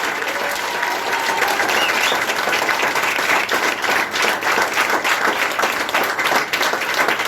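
Sustained audience applause fills a French tribute for Louis Fabrice Latour, with steady, dense clapping from a large crowd close by, loud and unbroken throughout.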